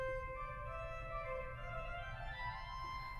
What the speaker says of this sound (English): Combined with the diapason and the forefoot, it sounds like this.